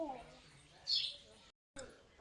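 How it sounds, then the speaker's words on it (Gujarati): Sparrows give a few short chirps as they come in to drink water outdoors, one brighter call standing out briefly, with a short gap of silence and faint background noise around them. "ચકલીઓ પાણી પીવા આવી જઈ."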